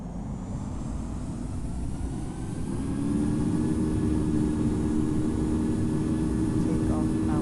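Airliner jet engines spool up to takeoff power, a heavy low roar that builds and then holds steady and loud, with voices talking over the engine noise.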